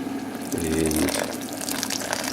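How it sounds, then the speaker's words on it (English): Boiling water poured from a kettle to dissolve dextrose priming sugar for a half batch of Belgian brown ale, a brief steady gush lasting about half a second, then faint trickling and background noise. "just enough water to dissolve it, boiling water."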